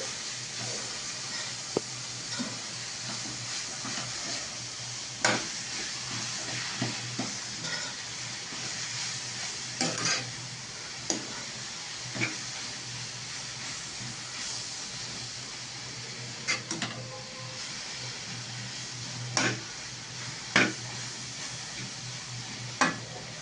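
Drumstick leaves fry in oil in a pan while being stirred, with a continuous close sizzle and periodic scraping strokes of the spatula throughout.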